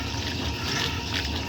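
Water splashes and sloshes continuously inside the nearly empty tub of a 1964 Speed Queen A49 washing machine, a loud, close, churning wash with no voices.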